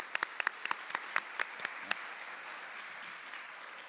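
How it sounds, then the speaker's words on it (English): A small, sparse round of applause at an awards event honoring a Business Partner of the Year: a dozen or so scattered hand claps over two seconds, moderately near, then trailing off into quiet room tone. "I think that deserves a round of applause right there."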